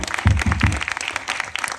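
Brief burst of clapping from an audience at a Shaurya Chakra gallantry award ceremony, a few strong close claps followed by lighter scattered applause that tapers off quickly.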